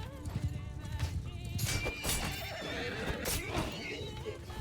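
Horses neigh and whinny repeatedly amid clip-clopping hooves and battle clamor in a medieval video game clash against bandit cavalry, with several loud whinnies rising over a busy, continuous din.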